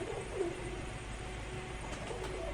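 Old pigeons coo softly in a loft, a low murmuring coo rising faintly over a steady background hum.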